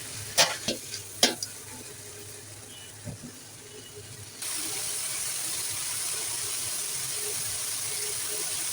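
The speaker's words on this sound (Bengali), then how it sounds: "দিচ্ছি পরিমাণ মতো হলুদ গুঁড়া দিয়ে ভেজে নেব" Broccoli, cauliflower and peas fry with turmeric for a sago khichuri: a few clattering knocks against the pan, then a sudden, steady, loud hiss of sizzling that carries to the end.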